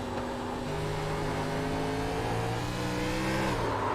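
A race car engine in a racing video game, heard from the cockpit camera during an oval race at New Hampshire, revs and climbs steadily in pitch as the car accelerates, loud and close, with no talking.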